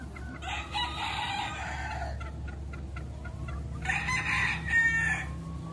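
Farmyard chickens clucking nearby while a rooster crows in two loud, drawn-out calls, the hens' chatter continuing between them with no speech.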